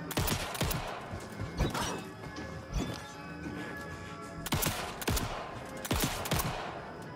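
Sharp bursts of gunfire and impact crashes in the video game Alan Wake 2 hit in irregular clusters, loud and punchy, over a constant game-like background hum.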